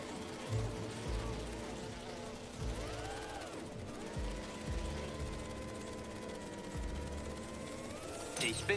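Bees buzz in Marvel's Spider-Man 2, a steady insect drone running through the game scene, with other game sounds and brief thuds on top.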